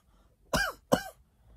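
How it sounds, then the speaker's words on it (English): Two harsh coughs, close and loud, a short pause between them, then quiet. "He had a wicked cough."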